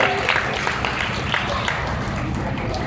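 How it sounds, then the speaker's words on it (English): Audience applause at an open swine show, a steady dense patter of clapping from a crowd around the show ring, loud and continuous with some voices mixed in. "Let's give this group a good round of applause"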